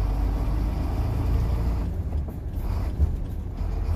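A Sino truck with a 10-speed gearbox rumbles with a low, steady engine drone inside the cab, with faint mechanical clunks and a brief knock as the gear lever shifts.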